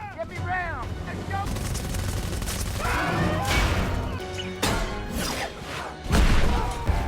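Loud movie battle on a ship's deck as a huge sea creature smashes through, with bursts of gunfire, crashing impacts, splashing and dense rumbling effects layered under a narrator's voice.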